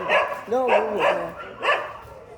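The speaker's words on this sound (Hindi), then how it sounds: "ये देखो डॉगी ऐसे भौंक रहे हैं। दूसरे गली के आ रखे हैं और ये इन पे भौंक रहे हैं।" Several street dogs bark at dogs from a neighbouring lane, a few sharp nearby barks and yips in quick succession with a brief whimpering note, close and loud.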